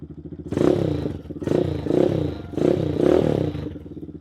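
A 2017 GPX Legend 200 motorcycle engine putters in an uneven, pulsing idle, surging softly about once a second, close by with no talk.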